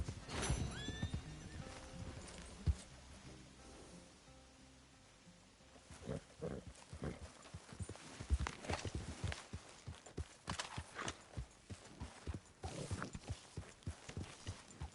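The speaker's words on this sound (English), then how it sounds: "Hey, get that horse out of here!" A horse whinnies and snorts in Red Dead Redemption 2, followed by steady hoof clip-clops walking close by, over a low ambient game background with no talking.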